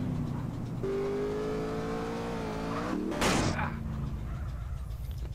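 A motorcycle engine hums and rises in pitch in GTA San Andreas multiplayer, then a short burst of tire squeal or a crash cuts across it before the engine settles back, all moderately loud.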